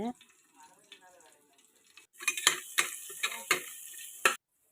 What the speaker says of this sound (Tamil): எண்ணெயை ஊற்றிட்டு பட்டை லவங்கம் இஞ்சி பூண்டை போட்டு நல்லா வதக்கிடுங்க